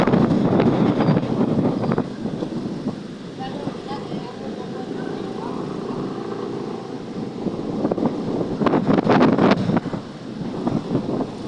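Wind and sea waves buffet a small boat on a trip off Masbate, with heavy microphone wind rumble and surging, swelling noise throughout while people talk over it.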